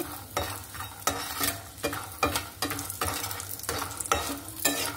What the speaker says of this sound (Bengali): এই যে আমি বড়িটাকে ভেজে নিচ্ছি